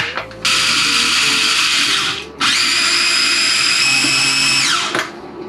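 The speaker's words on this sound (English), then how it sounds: "for my aioli, I'm gonna blend everything" A blender whirs loudly while blending aioli ingredients for a vegan rice bowl, running in two long sustained bursts with a short break and a shift in pitch on the second run.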